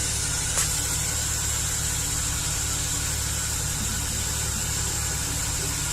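Chevy Express van engine with a misfire problem idling, a steady low rumble with a faint rhythmic vibration, close and continuous with no other sounds.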